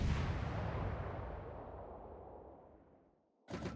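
A tier 10 Z-52 destroyer's guns fire in World of Warships: one heavy booming report that rumbles and slowly fades over about three seconds, followed by another sharp blast at the end.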